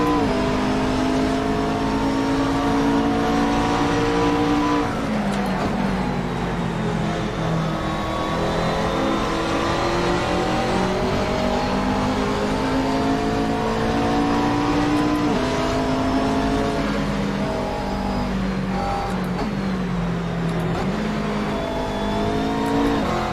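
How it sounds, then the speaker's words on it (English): A Ford-engined racing car in the video game Assetto Corsa roars close and continuously, its pitch climbing and dropping as it revs through the gears. "Oh look, it's another Ford engine."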